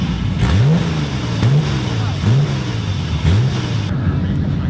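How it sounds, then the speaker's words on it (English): An 8N stock car's engine revs repeatedly in the pits, four rising roars with dips between, loud and close, while a voice talks over the engine noise. "with Dino starting up the stock car and giving the engine a run"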